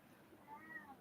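A house cat gives a few faint, drawn-out meows in a quiet indoor room, soft and somewhat distant.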